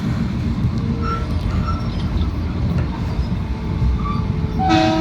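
A commuter train rumbles loudly along the rails with a steady low roar, and a brief high electronic tone or horn sounds near the end.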